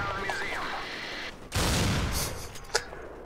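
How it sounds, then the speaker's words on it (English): Gunfire in the Xbox first-person shooter Black, a loud dense burst of noisy shots starting midway and holding for over a second, followed by a sharp crack, after a quieter stretch of game sound. "Shooting dead noisy guns at people."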